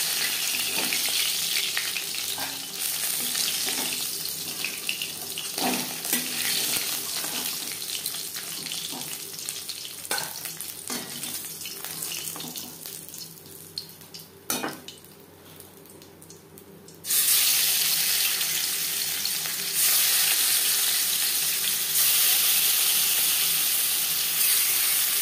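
Pieces of katla fish fry in hot oil in a wok, a continuous crackling sizzle with scattered pops and clinks, swelling much louder and denser partway through.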